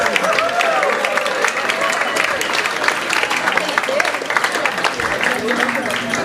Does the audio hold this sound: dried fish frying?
no